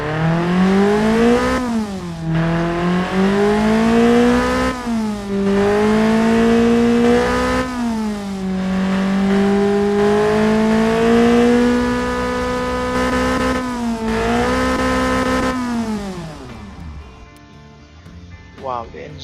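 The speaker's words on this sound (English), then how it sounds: "Wow, the engine is running perfectly, and we are still using the stock bottom end." A tuned car engine built on the stock bottom end, with an upgraded catalytic converter, revs loudly up close in repeated rising pulls with brief dips between them, then drops back to a lower idle near the end.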